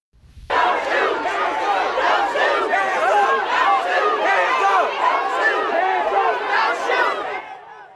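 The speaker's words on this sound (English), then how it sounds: "look at that massive crowd you see there chanting at police not to shoot them, holding up their hands" A massive crowd of protesters in Ferguson chants loudly and steadily at police, a dense wall of voices rising abruptly and holding for several seconds before cutting off.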